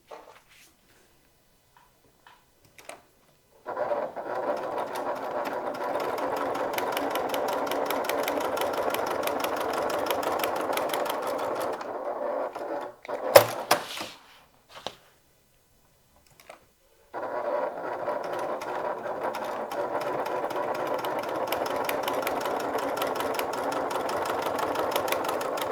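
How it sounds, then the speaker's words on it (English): A sewing machine runs a long steady stitching pass along a bag seam, pauses briefly with a few clicks, then resumes another sustained run, loud and close. "now we're going to stitch an 1/8 of an inch seam allowance down each long edge"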